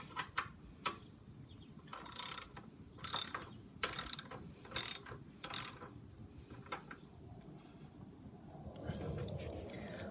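Ratchet wrench tightening a bolt on the battery of a 2005 Harley-Davidson Dyna Super Glide, heard as a handful of short, sharp ratcheting bursts with pauses between them, close and moderately loud, followed by quieter handling noise at the end.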